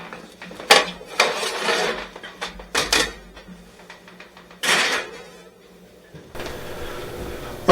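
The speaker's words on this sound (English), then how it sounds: "So I'm going to go ahead and turn these and let's put them back in the oven." Roasted carrots being turned in a metal pan and the pan slid back into a kitchen oven: several close, sharp metallic clatters and scrapes in irregular bursts, followed by a duller thud as the oven shuts.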